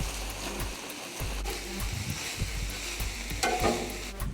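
Tater tots, sausage and Fritos sizzle on a Blackstone griddle, a close steady crackling fry with scraping and stirring strokes over it throughout, no talking.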